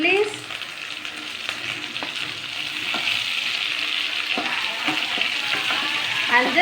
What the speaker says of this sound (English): and just saute it for 2 minutes.